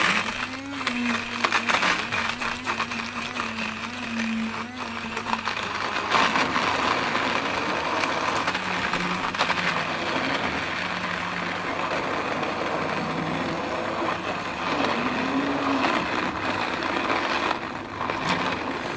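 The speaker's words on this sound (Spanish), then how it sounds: "Esto lo vamos a triturar con un poquito de su manteca y lo añadiremos después." A blender grinds fried pork scraps with a little lard, giving a steady, loud motor whir with harsh grinding noise and small shifts in pitch throughout.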